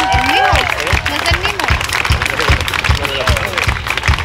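An audience at a country band concert in Álamos applauds a band member, with crowd clapping and cheers blending with live music and a voice speaking over the fairly loud, continuous din.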